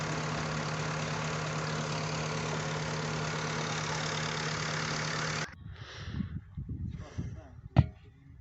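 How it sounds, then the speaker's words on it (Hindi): A Peter diesel engine driving a tube-well pump runs steadily and loud for about five seconds with a low, droning hum, then cuts away to quieter rustling and a sharp knock. "ज़्यादातर जो ट्यूबवेल हैं वो पीटर इंजन के ज़रिए चलाए जाते हैं।"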